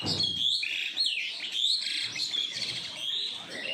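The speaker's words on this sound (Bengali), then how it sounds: "আর পাখিগুলো কিচিরমিচির করছে" Birds chirp and tweet outside a window on a morning, with bright overlapping calls sounding steadily and fairly close throughout, and no voices.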